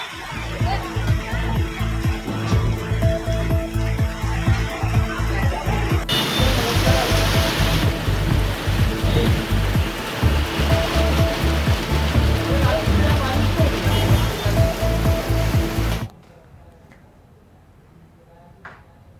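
Heavy rain falls in a continuous loud wash of hiss, briefly shifting in tone, then drops away abruptly near the end to a faint background, with speech underneath.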